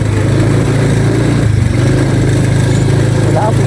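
A motorcycle engine running steadily at close range on a rough road, a loud continuous low drone with no pauses.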